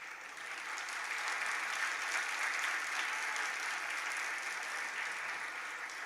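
Sustained applause from an audience at a temple sermon, an even, continuous patter of many hands clapping for about six seconds at moderate volume with no break.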